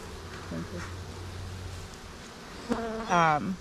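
Honey bees buzzing around an opened summer hive, a steady low drone with brief louder buzzes as individual bees pass close, while a person talks quietly.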